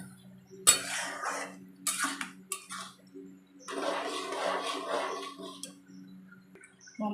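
A spoon stirs and scrapes egg chicken tarka in a metal pan, close by, in a few clattering bursts and then a longer stretch of steady scraping, with quiet gaps and no talking.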